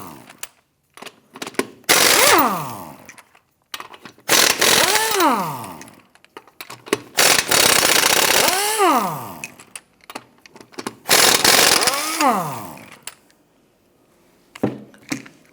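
Lug nuts on the front wheel of a 2008-2013 Nissan Rogue are loosened and removed, most likely with a power impact tool, in four loud whirring bursts with rising and falling pitch, each lasting a second or two, separated by short pauses.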